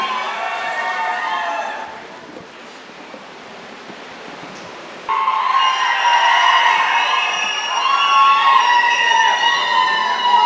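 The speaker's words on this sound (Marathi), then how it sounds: "एकदा हात वरती, जोरदार टाळी अनिल शेठ पाटील यांच्यासाठी।" A large crowd at a political rally in Atpadi cheers and shouts loudly. The raucous cheering is broken mid-way by a burst of noisy clapping and carries on afterward.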